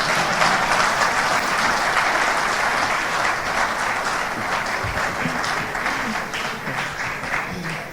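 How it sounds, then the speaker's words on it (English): Sustained applause from a conference audience for a speaker at a Ghanaian engineers and planners event, a steady dense wash of clapping that holds loud and even for the whole stretch, with a faint voice briefly underneath. "Please clap for me."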